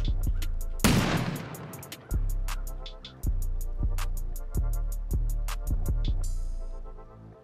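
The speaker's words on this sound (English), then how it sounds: "There's turrets on the ramps." Turret gunfire during a raid in a survival video game, loud booming shots at roughly one per second, each decaying over a steady background tone, with sharp ticking sounds between them.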